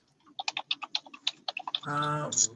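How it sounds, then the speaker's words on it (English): Quick, light keyboard clicks tap in an irregular run from participants with open microphones, faint and close, followed by a brief buzzy tone at the end. "I hear some people are typing."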